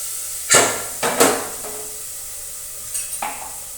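Chutney added to hot oil tempered with mustard seeds, cumin, asafoetida and curry leaves for a cluster bean curry, giving a few sharp close sizzling bursts with stirring and pan knocks, then quieter crackle.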